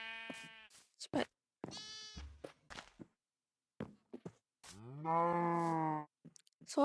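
Cows moo in a Minecraft Bedrock Edition village, alongside other farm-animal calls. Several short low grunts and bleats come first, then a long, loud moo near the end, with quiet gaps between calls.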